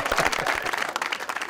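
A studio audience on a Pakistani talk show applauds loudly, a close burst of many clapping hands, dense at first and thinning slightly toward the end.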